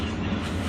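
The Coromandel Express passenger train runs on the tracks in Tamil Nadu, a brief, steady rumble of rolling wheels heard from on board.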